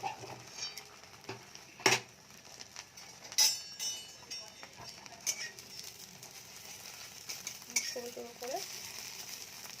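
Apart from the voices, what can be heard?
egg omelette mixture frying in oil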